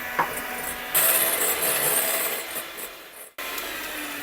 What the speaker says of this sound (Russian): Все, взбиваем дальше.